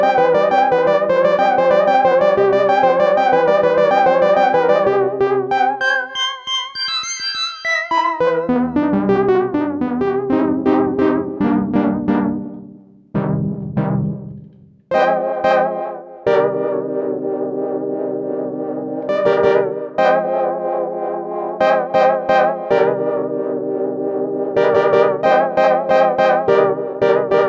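Elektron Digitone synth running through a Demedash T-120 v2 pedal in lo-fi chorus mode, giving a wobbly, warbling, echoing tone. A loud, steady melodic pattern of repeated notes plays with short gaps.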